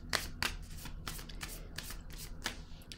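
Tarot cards shuffled and drawn by hand, a series of quick papery flicks and riffles with sharper snaps at irregular intervals, close and moderately quiet, no voices.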